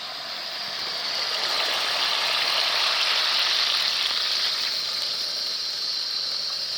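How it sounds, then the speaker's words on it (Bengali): Water poured into a hot cooking pot of spiced katla fish, a dense, loud rushing hiss mixed with sizzling that swells after the first second and holds steady without talk. "তো এবার আমি জল দিয়ে দেবো।"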